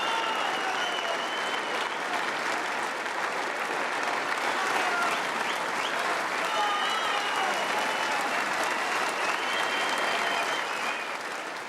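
Sustained applause from a large snooker crowd for world champion John Higgins, steady and loud throughout with dense clapping and faint murmurs of the audience beneath.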